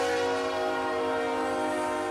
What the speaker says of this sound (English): Train G152, powered by 3 BNSF locos,